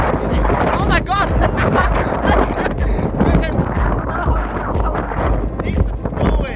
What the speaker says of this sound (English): I've been defying wind right now.